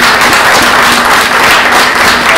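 Loud, dense applause from an audience at a campaign presentation event, steady broadband clapping filling the whole stretch with no speech over it.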